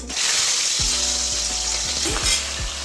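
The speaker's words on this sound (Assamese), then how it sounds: "এতিয়া মই মাছ ফ্ৰাই কৰি" Fish sizzles steadily in hot oil in a pan, a dense continuous frying hiss with a few soft clicks of the pan, close up and without talk.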